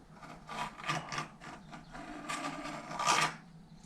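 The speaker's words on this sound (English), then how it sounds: "so we'll just scribe a little circle" A scriber tracing a small circle onto a metal throttle body adapter plate for a Toyota Starlet, making a few short scratchy scraping strokes close up, in separate bursts with brief pauses between them.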